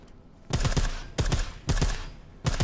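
Suppressed pistol fire in Deus Ex: Mankind Divided, four short bursts of two or three muffled thuds each, separated by brief pauses, close and fairly loud with no talk.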